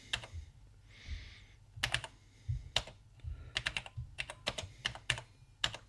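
Quick bursts of typing on an NEC PC-8201 computer keyboard, crisp key clicks in irregular clusters with short pauses, close and fairly quiet.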